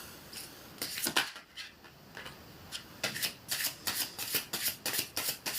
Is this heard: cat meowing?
no